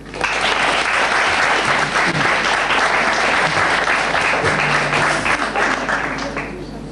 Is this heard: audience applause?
yes